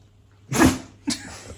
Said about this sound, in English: Got any more of them sneezes?